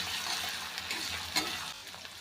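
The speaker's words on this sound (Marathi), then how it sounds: "हिरवी मिरची आणि लसूण आता आपण चांगला तळून द्यायचं आहे" Green chillies and garlic frying in a pan for a fenugreek leaf dish, a close steady sizzle with a few stirring scrapes over two seconds.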